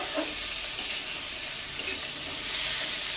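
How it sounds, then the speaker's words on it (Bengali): Ridge gourd, onion and tomato fry together in a pan, giving a steady, fairly loud sizzle broken by a couple of brief scraping clicks from stirring, with no speech. "টমেটোটাও দিয়ে একবার নেড়ে নেব"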